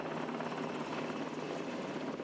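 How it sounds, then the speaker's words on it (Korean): A military helicopter arrives to pick up armed special forces troops during a winter training exercise, its rotor and engine a loud, steady, continuous roar close by with no voices. "헬기가 들어오고 무장한 특전대원들이 탑승합니다"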